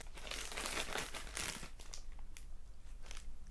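Plastic packaging of a Schleich advent calendar crinkles and crunches as it is torn open, a steady close-up rustle lasting a few seconds with no talking.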